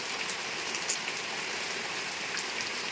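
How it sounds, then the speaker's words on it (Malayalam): Light rain falls steadily on surfaces around a house at night, an even hiss of drops with a few brighter patters, moderately loud and without talk. "ഇന്നലെ മഴ ഇച്ചിരി കുറഞ്ഞു, കുറഞ്ഞ മഴയാണിത്."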